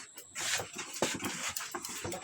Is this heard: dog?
yes